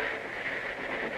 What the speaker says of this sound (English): With Spinner, the engineer at the throttle, the little pupper starts in reverse